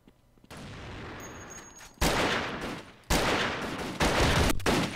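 Desert Eagle pistol fire in the shooter game KUBOOM: a burst of shots followed by three sharp, loud blasts spaced about a second apart, each ringing out with a short decaying tail, and no voices.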